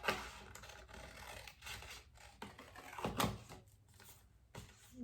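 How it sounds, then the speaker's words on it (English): Scissors snipping through the thin plastic covering of a temporary tattoo, a few crisp close cuts and scratchy scraping sounds with short pauses between them. "So I'm gonna just cut it right down the middle."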